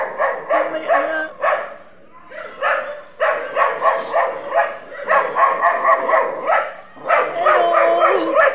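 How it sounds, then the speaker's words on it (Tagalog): Puppies and dogs bark, yip and whimper almost nonstop at a dog impound, many animals close by in a loud overlapping chorus with brief lulls. "Kukunin ko lang yung mga tuta."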